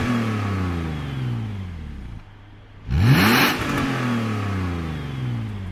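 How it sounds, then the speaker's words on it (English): A BMW E46 engine revs hard, its exhaust valve opening as it rises to a loud throaty roar, then drops away and settles back to a steady idle. "if I rev it hard enough or under harsh acceleration, that should open, giving it a more throaty sound"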